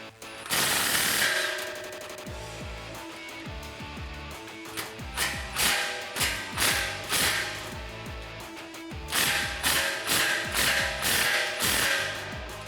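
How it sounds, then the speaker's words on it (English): A ratcheting 15mm socket wrench tightens exhaust clamp bolts on a 2019-2022 RAM 1500 5.7L with a Borla touring dual exhaust: close, loud bursts of rapid clicking come in several runs with short pauses between them. "now we can slide our clamp into position and tighten that down with a 15mm socket"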